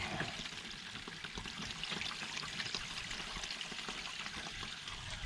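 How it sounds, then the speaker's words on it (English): Water rushes steadily through a camper's waste hose during a tank rinse, a continuous close pouring and trickling wash with no talk. "See, there's the water running through."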